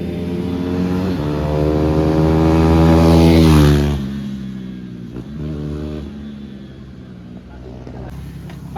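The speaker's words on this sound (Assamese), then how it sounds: "পংকজ ব্লগাৰ 390খন অকণমান টেষ্ট ড্ৰাইভ এটা দি যাইছে" A KTM Duke 390 motorcycle on a test ride revs up loud and close, its rising engine note peaking, then easing back to a lower, steadier idle-like drone.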